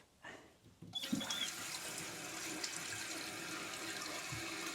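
Toilet tank refilling after the water supply is turned back on during a leak repair: a steady rushing, hissing flow of water starts about a second in and continues evenly to the end, close up and alone.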